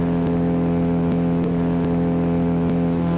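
Outboard motor of a boat travelling on the Guaviare river, a loud steady engine drone with a constant low hum and faint periodic knocks throughout, no voices.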